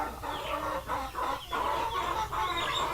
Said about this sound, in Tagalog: yung roster at saka yung mga hens